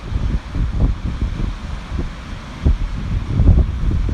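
Gusty wind buffets a DJI Mavic Pro drone flying near a lighthouse, a low rumbling roar that swells and fades in uneven bursts, steady throughout with no voices.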